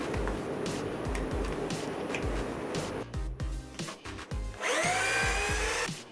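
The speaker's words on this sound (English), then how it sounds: "I'm going to drill another set of holes on the other side." A power drill bores a set of holes into a wooden backboard, with bursts of motor whine and pitch changes between pauses, loud and close, rising to a strong final spin.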